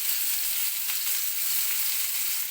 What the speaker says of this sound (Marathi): 2 मिनिटं तेलामध्येच आपल्याला हे परतून घ्यायचे आहेत व्यवस्थित असे